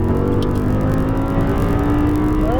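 An Audi R8 sports car accelerating on a track holds a steady, loud engine drone from inside the cabin, with a rising tone near the end as it pulls harder.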